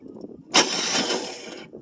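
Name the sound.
1974 International pickup engine starting after 25 years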